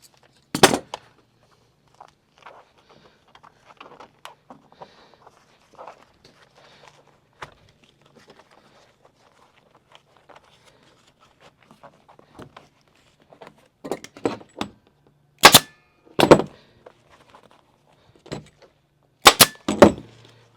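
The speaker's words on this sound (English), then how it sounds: "Oh, that staple didn't hold." A staple gun fires into an upholstery panel for a Model A interior, sharp loud snaps scattered across the stretch, clustered near the end, between quiet handling rustles and taps.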